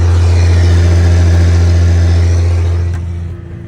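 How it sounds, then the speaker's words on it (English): A Versatile 875 tractor with a Cummins diesel engine runs steadily at about 1500 RPM in the field, a loud, deep, even drone that holds and then eases off slightly near the end. "Six, 7 Cummins in this thing, just purrs along, barely burns any fuel."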